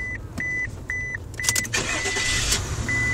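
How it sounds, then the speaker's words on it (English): A car fitted with an HHO hydrogen generator kit chimes with a repeated steady electronic beep, then its engine cranks and catches into a rushing idle about halfway through, with the beeps returning over the running engine. "you'll notice as soon as I start the car"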